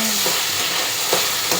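Tomatoes for egg biryani fry loudly in a pan, a dense close sizzle with a few soft stirring scrapes.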